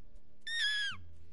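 A single shrill descending call in the Far Cry 6 video game, a brief harmonic squeal lasting about half a second, loud and close, followed by a low rumble.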